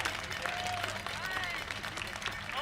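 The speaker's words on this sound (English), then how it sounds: "one more big round of applause" Applause from an audience at a May Day workers' rally, a dense sustained wash of clapping and crowd noise throughout, fairly loud and close, with voices mixed in.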